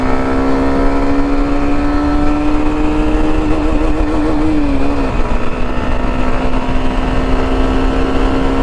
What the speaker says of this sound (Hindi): भाई क्या आवाज निकाल रही है।